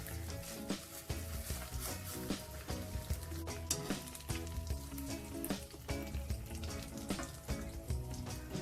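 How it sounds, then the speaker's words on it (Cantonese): Steady, crackling sizzle of pork belly skin frying in a hot pan, with sharp spitting pops scattered throughout and no talking. "呢個皮咧，我哋都可以煎下佢嘅。"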